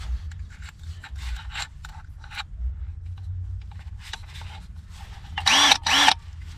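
Sandpaper on a drill attachment rasps against a painted surface in short scraping strokes, close by. Two louder whirring bursts near the end sound like the drill spinning up.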